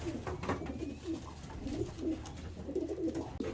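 Several young pigeons, including a grizzle, coo steadily in a loft, low throaty burbling calls repeating close by throughout with faint rustling behind.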